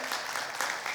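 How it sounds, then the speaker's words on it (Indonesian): A church congregation claps together in a brief, dense burst of applause, steady and moderately loud throughout. "Berikan tepuk tangan yang meriah"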